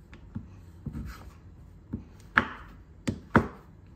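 A knife chops chocolate on a board to top a pavlova, giving about six sharp, separate chops spread irregularly across a few seconds, close and fairly quiet.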